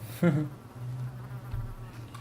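A wasp or bee buzzes close by in the video game Life is Strange, a loud droning hum that pulses and fades over a quiet outdoor background.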